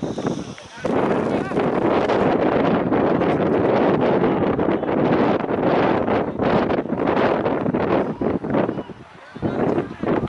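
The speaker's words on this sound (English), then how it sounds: "So here's a strong wind." Strong wind buffeting an outdoor microphone at a school rugby match, a loud continuous roar with gusting swells that dips briefly near the end.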